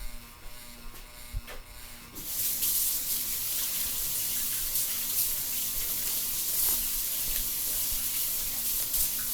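A kitchen tap opens after a quiet moment and runs steadily as hands are washed during homemade bacon cheeseburger pizza prep, giving a loud, close, continuous rush of water that fills the rest of the clip.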